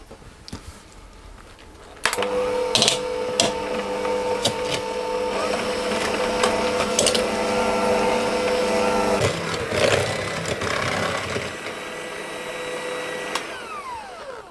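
An electric mixer creams Madeira cake batter in a bowl, a steady mechanical whir starting abruptly and holding level for about nine seconds before easing to a lighter hum, alone without speech.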